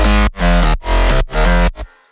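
A soloed, layered synth bass line, heavily sidechained so it pumps in four swelling surges cut by sharp dips, loud and up front and ending abruptly.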